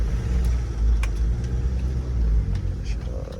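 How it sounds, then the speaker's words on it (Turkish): SsangYong Kyron SUV pulling in to park, its engine a steady low rumble that rises and falls gently, close by, with a few faint clicks over it. "Aracımızı şöyle bir yere müsait bir yere bırakalım."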